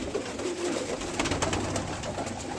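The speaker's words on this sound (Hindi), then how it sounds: "एक ये जीना बेबी पिजन है जी" Pigeons in a rooftop loft coo continuously at close range, a soft rolling murmur with no talk over it.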